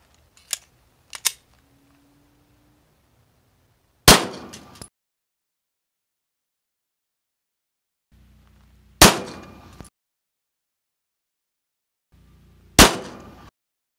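Three sharp, loud 9mm pistol shots are fired into a ballistics gel block outdoors, each spaced a few seconds apart, with lighter clicks of handling before them and long quiet gaps between.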